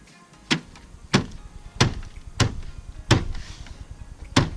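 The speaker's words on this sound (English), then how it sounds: "This fuse box will not, like this door will not stay closed" A small fuse box door that will not stay closed slaps shut again and again, six sharp knocks at a steady pace of a bit over half a second, close to the mic.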